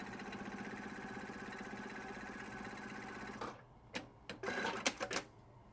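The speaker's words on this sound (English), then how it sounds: "let's go ahead and do a quick little sew out." A Juki DDL-9000C industrial sewing machine stitching, a steady rapid whirring hum for about three and a half seconds, then stopping, followed by a few short clicks and handling noises.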